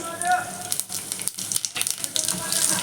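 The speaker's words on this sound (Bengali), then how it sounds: "তার মধ্যে আমি হাফ চামচ সাদা জিরে ফোড়ন দিয়ে দিচ্ছি" White cumin seeds, cinnamon, cloves and small cardamom crackle in hot oil for a vegetarian paneer, potato and cauliflower curry, giving a close, steady sizzle with a few brief dips and no speech over it.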